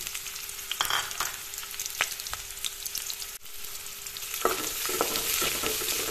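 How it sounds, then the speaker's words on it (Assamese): Sliced onion, ginger and garlic sizzle in hot oil with white mustard seeds, a steady bright frying hiss with sharp crackles and pops, rising slightly after a brief stir. "তাৰ পিছত দি দিলো পিয়াজখিনি আৰু একেলগে আদা নহৰুখিনি ইয়াত দি দিলো"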